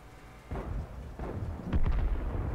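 Tank cannon fire in the World of Tanks video game: a few deep, booming thuds roll out over rumbling background noise, with the last blast the loudest.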